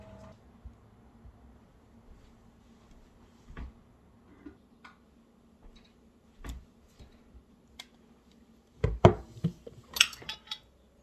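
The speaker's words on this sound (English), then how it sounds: "One of the best sounds. Popping lids." Sparse, sharp metallic pops and clicks from canning jar lids sealing on jars of dandelion jelly, scattered over a quiet room, with a brief cluster of clinks near the end.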